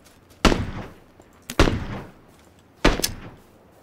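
Gunfire in PUBG coming from a tree position: three sharp, loud shots spaced about a second apart, each with a short decaying tail, and no talk between them.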